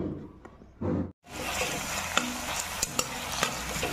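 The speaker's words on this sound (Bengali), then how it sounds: "পেঁয়াজগুলো আমি এখন তেলে দিয়ে দিয়েছি" Sliced onions with a pinch of salt hit hot oil in a wok and start sizzling, a loud close hiss with sharp bursts and scraping stirs of a spatula, no talk.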